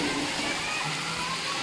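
Heavy rain pours down at a camp in a dense, continuous hiss, loud and close with no break.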